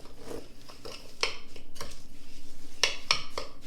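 Breadcrumbs being mixed with cheese and extra virgin olive oil in a bowl for a rouladen filling, with utensils scraping and clinking against the dish in a steady run of soft stirring and a few sharper taps.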